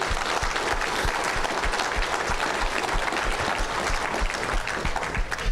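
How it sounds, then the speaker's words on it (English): A banquet crowd at the 2025 BSTP awards ceremony gives a sustained round of applause for sponsors, many hands clapping in a thick, steady roar that holds at the same loudness throughout. "Let's give them all a great round of applause"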